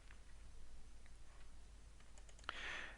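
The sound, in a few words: computer mouse clicking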